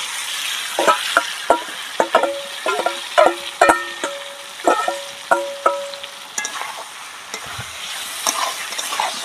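Spice-marinated mutton frying in a pan sizzles softly under repeated sharp clanks and scrapes of a spatula stirring against the metal, in an irregular rhythm.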